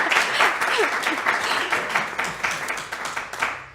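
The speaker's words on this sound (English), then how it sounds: "A big round of applause." Studio audience applause at a quiz segment of a science talk show, steady dense clapping throughout, with faint voices mixed in beneath.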